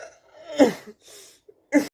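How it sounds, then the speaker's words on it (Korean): A few short coughing bursts from a person who has a mild illness, close and fairly loud, with a brief pause between them and a final sharp cough at the end. "너 기침하네"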